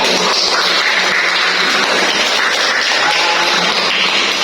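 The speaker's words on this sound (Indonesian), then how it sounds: "Terima kasih sekali lagi, aplaus yang meriah" A dense, steady wash of clapping from a classroom audience after a teaching practice session, loud and sustained throughout without pauses or talk.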